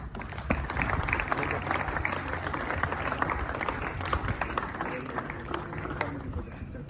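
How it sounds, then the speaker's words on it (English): Audience clapping for a student receiving a prize at a school prize ceremony, a steady dense patter of many hands sustained throughout with a voice briefly over it. "clapping for him"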